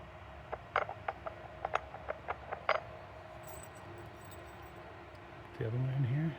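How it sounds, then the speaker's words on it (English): Sharp, quiet metallic clicks tap in an uneven series as a 10 mm bolt is fitted to a Cybertruck crossbar, then stop and give way to a voice speaking. "Go ahead and put my 10 millimeter bolt in."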